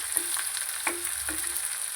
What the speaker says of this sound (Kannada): ಈರುಳ್ಳಿ, ಇದನ್ನು ಫ್ರೈ ಮಾಡಬೇಕು